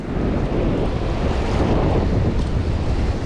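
Rough sea waves at a river mouth make a loud continuous roar of surf with heavy wind buffeting across the microphone, steady and with no voices.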